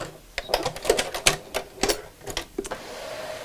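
Short, sharp stitching bursts from a sewing machine working on a fabric phone charger holder, close and uneven in rhythm, with no talk.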